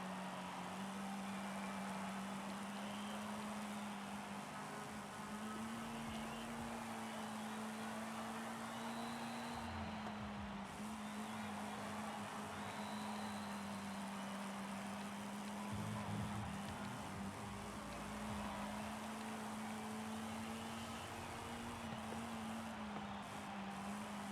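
Vintage NASCAR-style racer in Forza Horizon 5 lapping a circuit, a steady low engine drone holding one pitch with slight wavers, constant and fairly quiet throughout.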